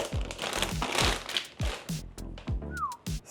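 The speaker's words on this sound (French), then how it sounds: "Le moment satisfaisant du déballage." Plastic packaging crinkles and rustles as a PC motherboard is unboxed, mixed with handling thumps and a brief whistle-like squeak, all close and fairly loud.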